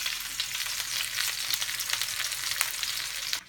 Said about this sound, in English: you want to put the fat side down so you get a nice sear on it